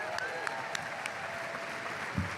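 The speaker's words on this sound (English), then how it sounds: "So let's give them a round of applause." Audience applause at an East Coast Music Awards red carpet event, a moderate, steady patter of clapping from a crowd with a few sharper claps standing out over the brief stretch.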